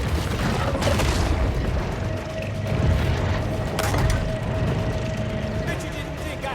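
Torpedo blast in the shark game Maneater, a dense roaring boom of underwater explosion and churning water that stays loud for several seconds with a sharper crack near the middle.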